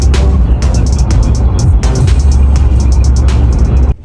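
Inside a vehicle on the road towing a trailer, a steady loud engine and road rumble drones continuously with faint clicks and rattles, cutting off abruptly at the end.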